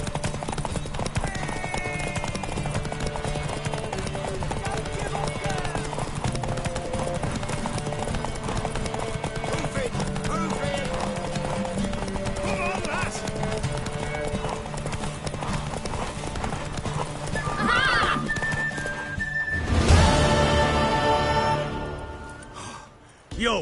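Horse hooves clip-clop at a steady walking rhythm in The Witcher 3, with game music and ambience underneath. A horse whinnies near the end, followed by a brief loud burst.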